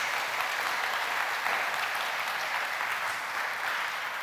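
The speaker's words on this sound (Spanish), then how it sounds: "Dale un aplauso a Jesús, dale un aplauso al Rey de Reyes." Church congregation applauding for Jesus during a sermon, a steady, dense wash of clapping from many hands filling the room without pause, fairly loud and even throughout.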